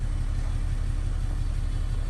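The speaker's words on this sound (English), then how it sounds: "It is idling a whole lot smoother now." A Ram pickup's Cummins 6.7 diesel engine idles smoothly after a camshaft sensor replacement, a steady low rumble that holds even and continuous, close and moderately loud.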